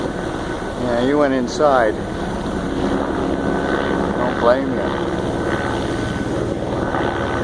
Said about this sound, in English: I'm thinking it might be a county sheriff helicopter.